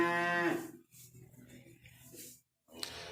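Cows mooing in a pen holding three large cattle around 1,300 pounds each, a loud close moo up front followed by lower grunting calls and a brief quiet gap.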